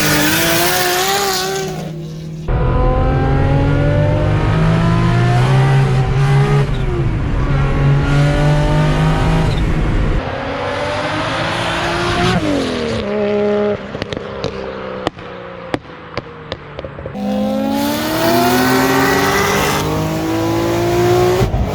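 A Datsun 240Z with a built RB26 engine swap revs hard and repeatedly on a tuning session, loud close engine howls climbing and dropping, with sharp crackles and pops between pulls.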